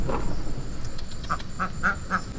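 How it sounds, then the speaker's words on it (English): A duck quacking four times in a steady run of short nasal calls, fairly near, over a steady outdoor background hiss. "we found the duck."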